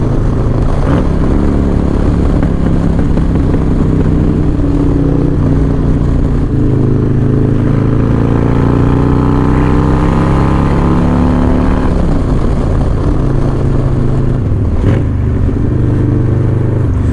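Motorcycle engine droning steadily as the bike rides into downtown Brooklyn, New York City, a loud continuous rumble with shifting pitch as the rider changes speed, no talking over it.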